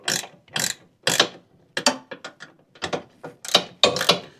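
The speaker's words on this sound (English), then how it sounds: "Be able to ratchet this right out." A ratchet wrench removes a bolt on a Toro Titan MX5400 zero-turn mower, giving loud, close bursts of rapid clicking in about a dozen short strokes separated by brief pauses.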